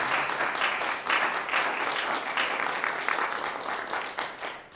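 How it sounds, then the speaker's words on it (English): Audience applause at a university senior horn recital, a moderately loud hall full of clapping, steady and dense with slight swells, no voices over it. "You give them a round of applause, please."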